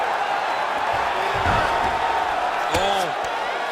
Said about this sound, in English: crowd absolutely loving it as the fighters, however compromised, make their way back to the feet